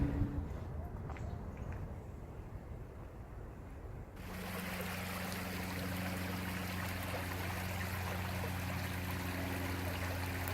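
Taylor-Massey Creek water flows steadily after a quieter start, a dense, continuous rush that jumps in loudness about four seconds in, with a low steady hum underneath.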